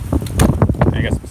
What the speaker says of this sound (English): I got some serious wind.